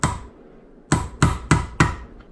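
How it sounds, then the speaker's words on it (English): A worn chisel struck by hand to recut the damaged thread of a metal bolt: four sharp metallic taps in an even rhythm, close and clear, after a quiet start. "Okay, so trying to hold it by hand kind of sucked, so I'm going to try a chisel."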